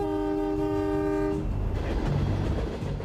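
Diesel freight locomotives in Australian outback service rumble steadily and loudly, with a sustained multi-tone train horn sounding for the first second and a half before the engine drone and rolling clatter continue alone.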